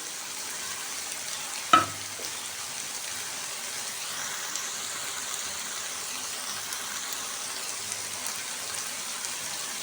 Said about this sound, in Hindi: अब हम इसको मिक्स कर लेंगे